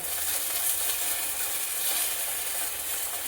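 Spices with salt, turmeric, chilli, coriander powder and ginger paste sizzle in a pan for a drumstick fish curry, a steady close frying hiss with light stirring and no voices.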